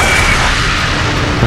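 A bomb going off in Bloodborne, one loud, dense, rumbling blast that fills the whole moment and sounds close.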